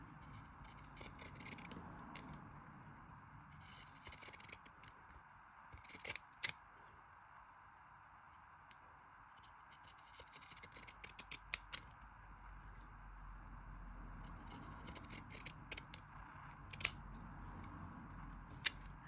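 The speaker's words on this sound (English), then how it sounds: "We'll just use the scissors instead." Scissors snip through paper in quiet bursts of crisp cuts, spread out with pauses, faint and close over a low background hum.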